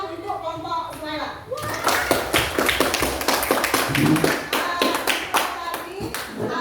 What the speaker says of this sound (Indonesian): Kasih tepukan untuk kelompok Suhaila